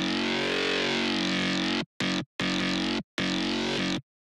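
A dense, buzzing synth bass from the first chain of a melodic dubstep patch drones loudly, then breaks into three short chopped bursts separated by abrupt silences before cutting off.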